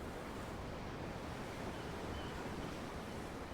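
Ocean waves rolling in Tales of Arise, heard as a constant, fairly loud rushing surf with breezy hiss throughout, unbroken and free of speech.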